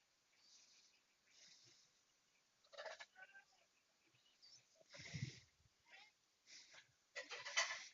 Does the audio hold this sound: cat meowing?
yes